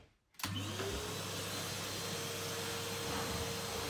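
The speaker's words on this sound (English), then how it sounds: "now I'm going to plug the vacuum in and do some vacuuming" A Henry vacuum cleaner starts up with a click and then runs with a steady whooshing roar while a home lounge is cleaned, its motor pitch rising as it spins up.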